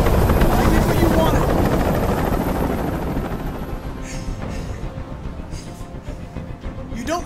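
Helicopter rotor drone in the video game Detroit: Become Human, a loud continuous whirring rumble that slowly fades toward the end while sharper transient noises break through.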